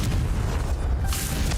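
Confringo fire spell blast in Hogwarts Legacy, a loud, close, sustained rumbling boom with a bright burst of crackle near its end.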